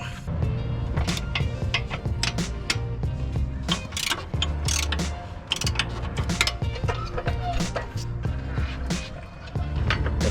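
Ratchet tightening front suspension bolts, sway bar and strut lower mount, during a TEIN coilover install on a Lexus, steady close clicking bursts with workshop clatter and no talk.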